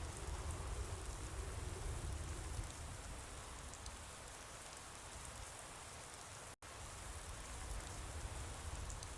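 Steady, dense rain hiss with a broad patter in the video game Fallout 4, continuous and fairly loud, broken only by a split-second dropout near the end.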